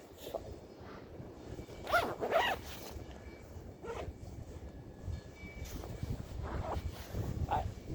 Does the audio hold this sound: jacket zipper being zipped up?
yes